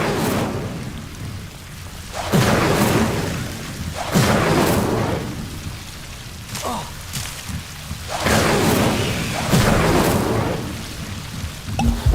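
Incendio fire spells cast in the video game Hogwarts Legacy, repeated whooshing bursts of flame roughly every two seconds, loud and close over a continuous crackling, rain-like roar.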